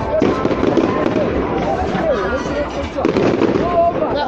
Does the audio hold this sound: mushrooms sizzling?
no